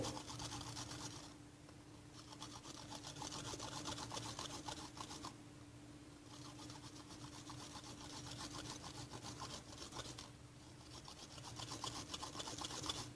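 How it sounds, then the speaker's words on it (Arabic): Cheese is grated on a large grater with steady, rapid rasping strokes in three long passes separated by brief pauses, close and continuous, with no talk. "هنا غادي نعطي لها بهاد لاغاب الكبيره شويه تاع الفرماج باش نعطيها ليغو"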